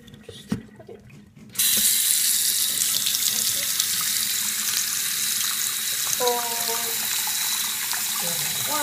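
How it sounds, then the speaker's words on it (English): Warm water runs from a tap in a steady, loud rush after a quiet opening, with faint voices briefly audible underneath. "let's get warm water"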